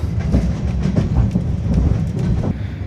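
A nostalgic passenger train between Chisinau and Bucharest rolls over the rails, heard from inside as a loud, steady rumble with a rhythmic clickety-clack of wheels over the joints.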